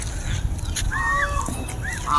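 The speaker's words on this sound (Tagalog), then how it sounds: "meron pong iba't ibang klase ng gansa dito" Geese of several kinds honk nearby at a hotel in Tagaytay, a couple of nasal calls rising over a noisy outdoor background, one after another.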